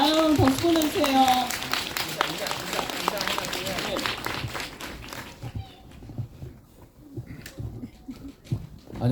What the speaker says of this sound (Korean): 아유 박수 보내주세요.